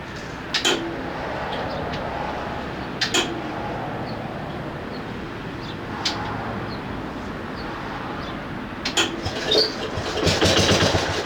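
A 1968 Bolens EK-10 Estate Keeper garden tractor engine runs at a steady mid-pitched idle, with a few sharp clicks and knocks and a slight rise near the end, heard close with no talk.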